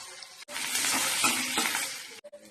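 Tomatoes added to a pan with ginger garlic paste give a loud, bright sizzle of frying that fills about two seconds, with faint clinks of a utensil before and after.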